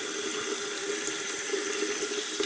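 Tap water runs steadily from a faucet into a sink while a makeup brush is rinsed under it, a continuous close, fairly loud rushing stream with no voice.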